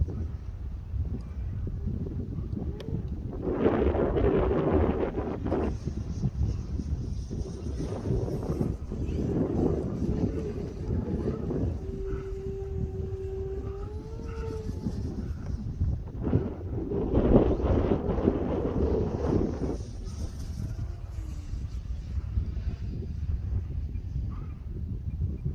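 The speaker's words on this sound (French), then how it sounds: "le vent vous retiendra toujours" Wind gusts buffet an outdoor microphone at a model aircraft flying field, surging and easing over about twenty-five seconds, with a faint tonal whine from a passing electric model plane in the middle.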